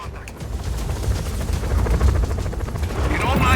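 Helicopter rotor drone mixed with bursts of gunfire in the open-world action game Just Cause 4, a steady loud rumble with crackling shots throughout, a voice faintly underneath.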